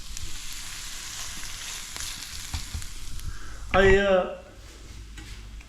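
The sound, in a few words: onions frying in a pan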